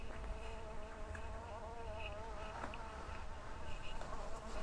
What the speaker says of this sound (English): that's a massive bee